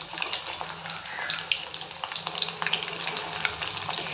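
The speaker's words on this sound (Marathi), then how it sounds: "याच पद्धतीनं सगळं पनीर तळून घेऊयात." Paneer cubes frying in hot oil in a pan, a constant soft crackling sizzle with scattered sharper pops and light stirring clinks, fairly quiet and close.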